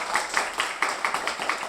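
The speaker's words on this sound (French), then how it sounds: "applaudissez bien fort" A circus audience claps in a quick, steady rhythm, many hands beating together in regular bursts at moderate distance, brief and without voices.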